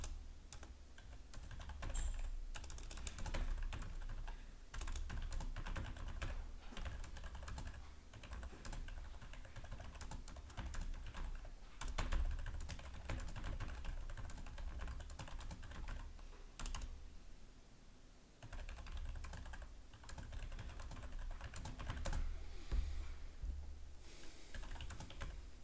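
Rapid, continuous typing on a computer keyboard fills a long stretch as a response email is written, keys clattering in uneven bursts with brief pauses, close and moderately quiet.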